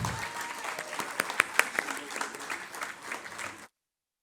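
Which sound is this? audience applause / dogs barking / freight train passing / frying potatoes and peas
audience applause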